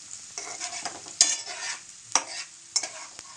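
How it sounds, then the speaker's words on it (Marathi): Onion frying in a kadhai, loud crackling sizzle with repeated sharp scrapes and clinks of a spatula stirring against the metal, close up and without talk. "कांदा मस्त परतून द्यायचा"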